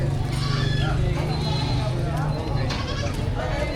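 Goats bleating among livestock at a cattle, goat and carabao market in Padre Garcia, Batangas, repeated calls amid crowd noise and close talk.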